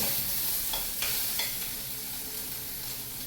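Soya chunks (meal maker) frying in a pan, a steady broadband sizzle with a few soft stirring scrapes near the start, close and even throughout with no voices.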